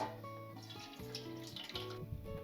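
Canned tomatoes, from five 28-ounce cans, are dumped into a sauce pot already holding fatty ground beef and pork. They make a soft, wet, sloshing pour that runs for a couple of seconds with no talking.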